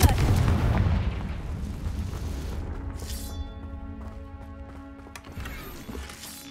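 A Confringo blasting spell explodes in the Hogwarts Legacy video game, one heavy booming blast at the start that rumbles and fades into ringing magical tones and a softer shimmering burst.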